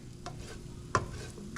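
Pork browning in a pan for creamy paprika pork and pasta, a soft continuous sizzle broken by a sharp spatula scrape and stirring clatter, close by with no talking.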